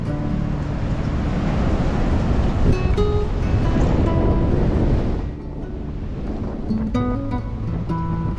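Pacific coast ocean waves roll onto a beach in a continuous loud roar, buffeted by heavy wind noise on the microphone, with a brief dip in the surge near the end and no talking.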